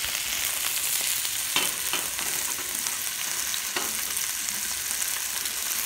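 Frozen garden okra sizzling and frying in a hot pot, a steady dense crackle with a few sharper clicks of stirring, close and loud without speech.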